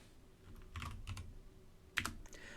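Typing on a computer keyboard, a few quick clusters of soft key clicks close by and fairly faint, with one sharper tap near the end over a low room hum, no voices.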